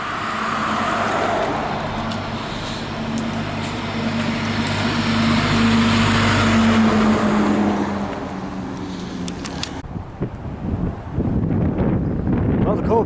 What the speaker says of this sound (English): The wind's starting to pick up, so headphone users be aware it might get a little loud on some of these recordings now.